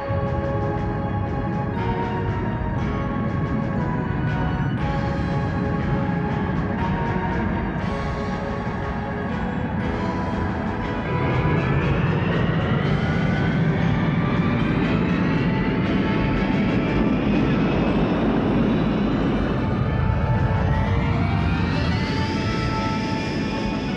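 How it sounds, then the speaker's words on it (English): Spacecraft liftoff effect from a TV show: a sustained loud engine roar with tones rising in pitch as the craft climbs, steady and unbroken throughout with no talk. "Ready for liftoff."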